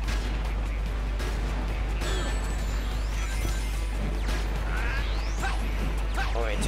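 Sonic the Hedgehog game action as missiles are seized with psychokinesis, with whooshing launches, crashing impacts and explosive bursts over a continuous bed of game music and effects.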